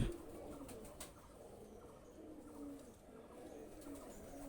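A Pakistani high flyer pigeon sitting on two eggs coos softly and repeatedly, low rolling calls recurring every second or so against a faint, quiet background.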